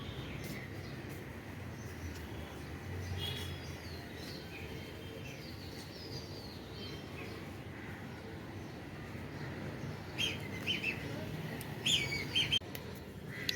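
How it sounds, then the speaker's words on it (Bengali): Birds on a house rooftop in the morning, where up to 150 pigeons gather, give faint scattered chirps over a low, steady background hum, with a few sharper calls near the end. "আমাদের ছাদে প্রায় 1 থেকে 150 পায়রা আসে।"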